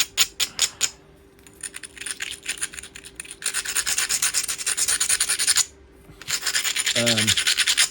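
Norfolk flint platform edge being ground with a hard abrading stone in steady, close scraping strokes, after a few sharp taps at the start, with one brief pause and a short low voice-like sound near the end.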